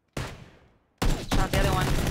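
Video game gunshots: one sharp close report rings and fades, then a second burst arrives loud and sustained. A brief gap breaks it before the rapid fire resumes.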